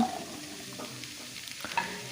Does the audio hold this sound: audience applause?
no